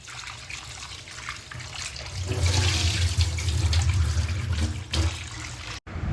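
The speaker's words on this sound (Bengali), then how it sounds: "প্রথমেই আমরা চিকেনটা ভালো মতন ধুয়ে নেব।" Tap water runs steadily into a sink while raw chicken is washed for a fried popcorn chicken recipe. The stream grows stronger partway through and ends with a sudden clunk, heard close and alone.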